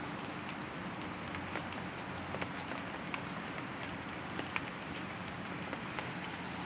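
Steady rain falls on surfaces outdoors on a wooded hillside after an all-night downpour, a dense constant hiss with scattered louder drips, with no voices.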